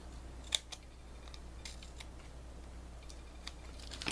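Scissors trim a paper circle for a handmade paper flower, with a few faint, sparse snips and rustles over quiet room noise, one sharper cut near the start.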